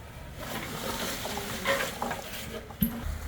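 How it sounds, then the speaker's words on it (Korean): Kimchi seasoning of radish strips and green onion is mixed by hand, a wet, squelching, rustling stir close up with a steady texture and a brief knock near the end. "이걸 잘 섞어줍니다"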